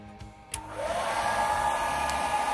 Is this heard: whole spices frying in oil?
no